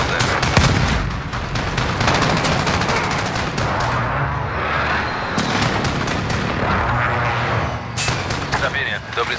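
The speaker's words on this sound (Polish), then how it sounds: "Nalot w drodze." Precision airstrike explosions from the video game Call of Duty: Modern Warfare (2019) multiplayer, a dense barrage of loud booming blasts and rapid gunfire crackle layered continuously, with in-game voice callouts mixed in.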